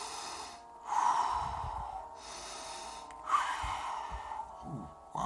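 Imitated breathing from a paranormal tape recording, with slow snort-like inhales and gasping exhales repeating in a roughly even rhythm over a noisy, hissy background.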